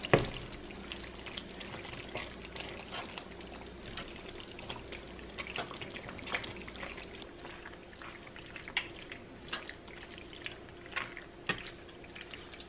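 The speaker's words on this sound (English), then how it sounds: "I'm gonna go ahead and start pouring in our noodles." Cooked pasta noodles are poured into a pan of cheese sauce, making a steady, soft wet patter and sloshing with scattered drips throughout, with no talking.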